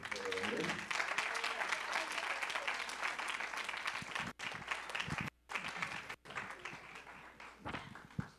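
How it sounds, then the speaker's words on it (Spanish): A conference audience applauds after a talk, steady mid-level clapping with brief breaks and a voice speaking over part of it. "Otro aplauso"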